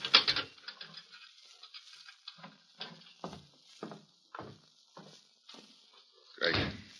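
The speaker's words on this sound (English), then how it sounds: "Got to lock you in while you talk to the prisoner, Greg." Door lock and latch sounds in an old radio drama, a series of separate clicks and knocks at steady intervals, fairly close, ending with a louder rattling clunk.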